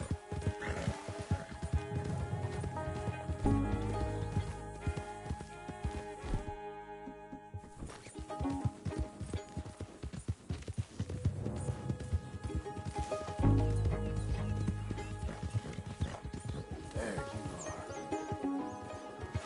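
A horse in the open-world game Red Dead Redemption 2 neighs and whinnies over steady clip-clopping hooves, set against a dense game soundtrack and ambience, with several louder whinny bursts through the scene.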